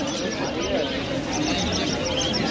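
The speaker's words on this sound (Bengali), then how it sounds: "এখানে সিরাজ পায়রা দেখতে পাচ্ছেন" Sherazi pigeons, including black Sherazi, at a busy pet market give low, dense cooing beneath steady crowd chatter and bustle, the birds blending into continuous loud background noise.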